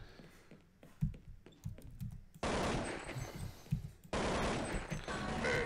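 Counter-Strike 1.6 gunfire: a few scattered single shots and clicks, then two long sustained bursts of rapid automatic rifle fire, loud and dense, cutting off abruptly.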